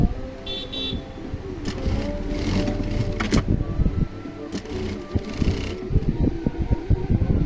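A domestic sewing machine runs in short, uneven bursts of rapid mechanical stitching, with clicks and clunks as it stops and the thread-release mechanism engages, close and fairly loud.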